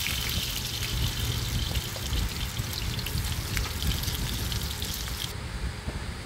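Breadfruit pieces frying in hot oil for a vegetarian dish, giving a steady, dense, close sizzle and crackle that holds evenly throughout with no voices.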